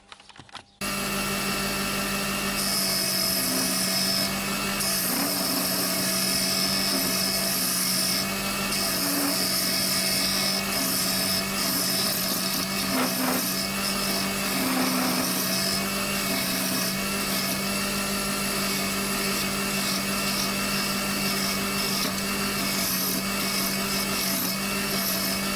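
Continuous steady whine and hum of a wood lathe turning a shaped ash bowl, with gouge cutting noise layered on top, loud and unbroken throughout with no talking.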